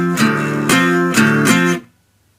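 Electric guitar plays a riff, three strong distorted chord strikes in a quick rhythm, each ringing briefly before an abrupt stop into silence.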